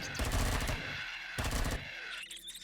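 SMG gunfire in Empyrion Galactic Survival (Reforged Eden) inside a warehouse: two close bursts of rapid automatic shots, the first longer and the second shorter, with a quiet gap between them.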